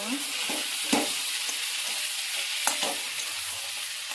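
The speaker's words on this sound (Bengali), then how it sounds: "আর একটু মশলা দিয়ে নাড়াচাড়া করবো।" Spices being stirred and fried in a pan, a steady close sizzle with several sharp scrapes of the spoon against the metal, no voices.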